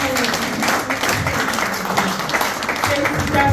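An audience applauds at a retirement ceremony, a steady wash of clapping that carries on under a speaker's voice.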